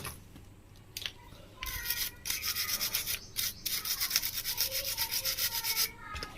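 A spot on the power board of a Prestige PIC 20.0 induction cooktop is scrubbed clean. The rubbing strokes are rapid, rhythmic and close, starting after a short quiet stretch and continuing to the end.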